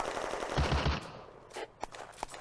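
Video-game gunfire in a firefight in the woods on the Eastern Front: a rapid machine-gun burst up front, followed by scattered, sharper single shots that ring out farther off.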